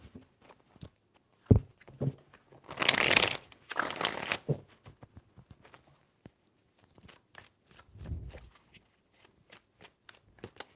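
A deck of tarot cards gets two loud, crisp shuffles in quick succession, surrounded by scattered soft taps and handling clicks in a quiet room, with no voices.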